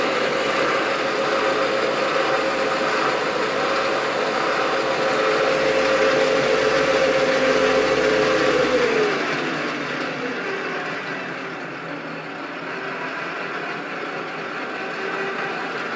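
Mini metal lathe with lubricated gears running with a steady whine and hum, then winding down and spinning to a stop about two-thirds of the way through, leaving a quieter background.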